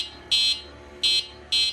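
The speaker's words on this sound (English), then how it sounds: "this is how the horn sounds like" Three short electronic beeps from the horn of a ONEBOT S6L folding electric bike, shrill and buzzy, each lasting about a quarter second with brief gaps, close and loud.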